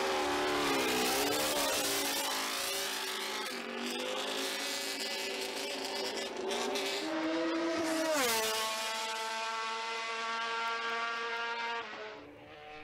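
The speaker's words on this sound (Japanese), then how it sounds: "ケビン・シュワンツが鈴木の GSVR でバレンシアを走行した" A Suzuki GSV-R MotoGP race motorcycle at the Valencia circuit screams past at high revs, its engine note climbing and shifting through gears, loud and close throughout before fading slightly at the end.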